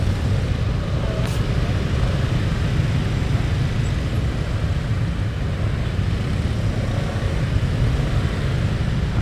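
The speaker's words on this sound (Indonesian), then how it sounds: "udah macet nih sini" Jammed traffic on the road toward Monas in Jakarta during a Lebaran Betawi event: a steady, dense low rumble of idling and creeping vehicles, continuous and fairly loud with no clear individual passes.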